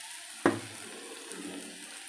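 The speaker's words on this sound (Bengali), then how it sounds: "পেঁয়াজটা একটু ভাজা ভাজা হয়ে যাবে, এবার আমি শাকটা দেবো।" Onion and leafy greens frying in a pan: a sharp sizzling burst as the greens hit the hot oil, then a softer, steady crackle of frying that continues quietly on its own.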